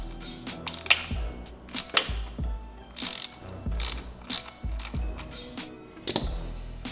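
A size 13 socket ratchet loosens a shift linkage bolt on a Harley Davidson motorcycle, giving repeated close, crisp clicking bursts in short uneven strokes, with no talk.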